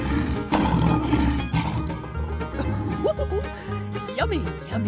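A lion roars in a 3D animal slide video game, loud and sustained over busy game music and effects, with a voice talking around it.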